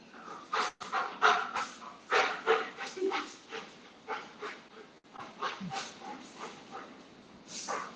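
Pet dog panting and whimpering indoors, a run of quick breathy pants broken by soft whines, fairly close and moderately quiet, with no talking.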